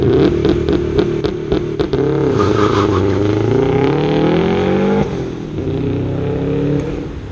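An old Camaro's engine revs hard and loud, rising steadily in pitch to a peak before dropping off, then climbing again, with a few sharp clicks at the start.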